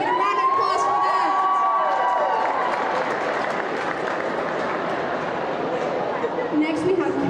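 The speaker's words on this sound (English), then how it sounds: "can we get a round of applause for that?" Crowd at a high school swim senior night in Shawnee, Oklahoma gives sustained applause and cheering, a dense roar through the whole stretch while a voice speaks over it.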